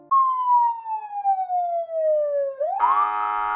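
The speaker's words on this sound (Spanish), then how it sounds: "escuchamos sonido de la patrulla de policía." A police patrol car siren sounds alone and loud, one long wail that slowly falls and then sweeps back up into a steady, buzzy electronic tone.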